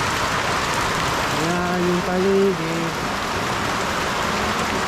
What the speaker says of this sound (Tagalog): Ang hinihintay naming ulan sa panahon na ito.